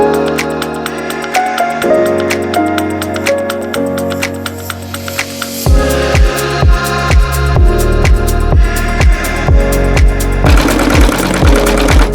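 An embroidery machine stitches out a patch on cellophane, running continuously with a steady mechanical stitching rhythm whose pace and pitch shift partway through, close and loud with no talking.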